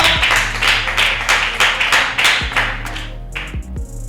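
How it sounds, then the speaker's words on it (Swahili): A few people clap in short rhythmic bursts at an interview or award-style event, steady close applause with pulsing beats and some light tapping, no talk over it. "Makofi kwa Daniel Kachipa."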